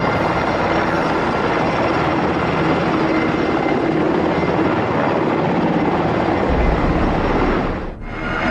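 Army helicopters flying over a Houston neighborhood, a loud, steady rotor and engine roar that continues unbroken and dips briefly near the end.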